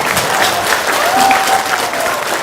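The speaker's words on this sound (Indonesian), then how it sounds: "tepuk tangan dong." An audience breaks into applause, a loud, dense wash of clapping that holds steady throughout, with a crowd murmuring faintly underneath.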